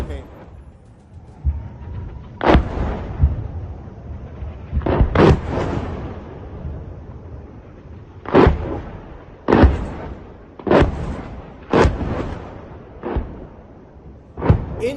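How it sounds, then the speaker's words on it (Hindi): Loud explosive blasts from rockets and explosives in a Hezbollah attack from Lebanon on an Israeli military base, a rapid series of about a dozen sharp booms in irregular bursts over a murmur of background voices and rumble. "इन विस्फोटकों से आप अंदाजा लगा सकते हैं, जो जोर से आवाज होती है, कि कितने बड़े विस्फोटकों का इस्तेमाल यहां हुआ है।"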